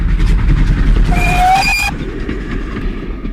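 A radio train sound effect plays: rumbling rail noise with a brief rising whistle toohing loudly in the middle, then the rumble fades back under.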